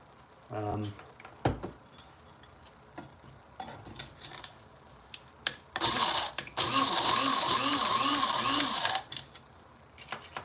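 Coffee beans are ground in a hand-cranked grinder at close range, with scattered clicks and handling noises followed by two sustained bursts of rough, rhythmic crunching grinding.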